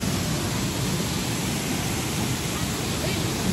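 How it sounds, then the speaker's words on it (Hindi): Langboku waterfall in Karbi Anglong roars as a steady, dense rush of falling water, an unbroken broadband wash that stays even and fills the whole scene from up close. "तो ये रहा वाटरफॉल।"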